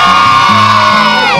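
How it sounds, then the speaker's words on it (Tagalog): A crowd cheers and shouts loudly and close at a gathering, a brief dense burst of voices whooping together. "Grabe, palakpakan!"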